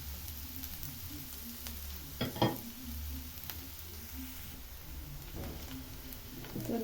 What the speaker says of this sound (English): So in my pan I've added cooking oil and onions.